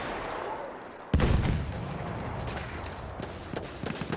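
Gunfire in a Battlefield 1 Rush match, a sudden loud burst cutting through steady battlefield din and then a continuing crackle of shots.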